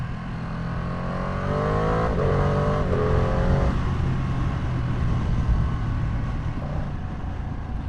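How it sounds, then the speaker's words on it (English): A Ducati motorcycle downshifts through the gears with an auto blipper, the engine giving a series of quick rev blips stepping down in pitch over a low steady drone, fairly close. "I'm just gonna click down on the shifter. Fifth, fourth, third, second."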